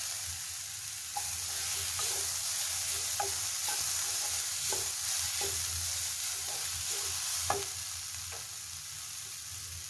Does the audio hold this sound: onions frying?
yes